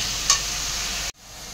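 Onion frying with ginger garlic paste in a pan makes a steady, fairly loud sizzle with a brief clink near the start, then cuts off abruptly into near quiet.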